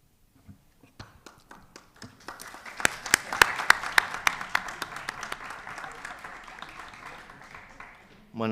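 Applause at a conference session starts as sparse individual claps, swells into a dense round of clapping from the audience, then gradually thins out before a voice cuts in at the end.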